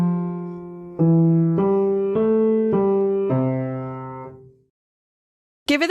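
Piano playing the left-hand bass clef notes of "Goodbye, Old Paint": a slow line of seven clear, sustained low notes, the last one ringing out and fading to silence.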